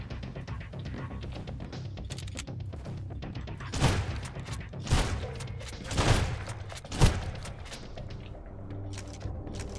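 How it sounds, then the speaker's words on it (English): Gunfire in the video game Sunkenland: a rapid series of distant crackling shots runs throughout, with several louder close bursts and thumps in the middle. "The only problem is I don't know who is shooting at me."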